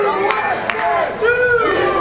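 A wrestling arena crowd at an FWE Retribution show cheers The Patriot against Boris Naboka, a steady roar of voices carrying through the whole stretch beneath a commentator talking over it.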